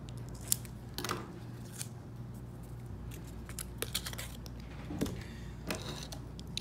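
Scissors snip through paper for a travel album, giving scattered, quiet crisp cuts and rustling, close by and with no talking.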